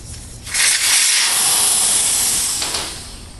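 Air hisses loudly and steadily out of a motocross tire once the valve core is removed, a continuous close rush that swells and then eases slightly toward the end.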